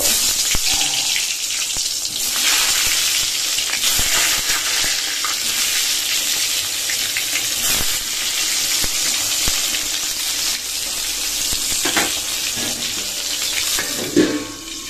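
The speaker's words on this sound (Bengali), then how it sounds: "এই দেখো তেল গরম হয়ে গেছে, তো এখন বেগুনটা ভেজে নেব।" Brinjal frying in hot oil, a loud, dense, continuous sizzle and hiss close up, with faint handling clatter and occasional brief background sounds throughout.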